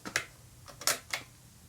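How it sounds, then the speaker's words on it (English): A loose part rattles inside a Mamiya 6 Automat folding camera as it is handled, giving three or four short, sharp clicks and ticks spread unevenly over a quiet background. "there's a piece inside that's rattling loose, and only when I actually manipulate the camera does that thing make its presence known"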